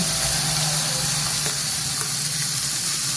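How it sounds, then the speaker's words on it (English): Butter sizzles in a hot pan alongside a steak with oil, giving a steady, loud hiss and crackle close up with no talking. "I already buttered the pan, but I'm gonna throw a little bit more in."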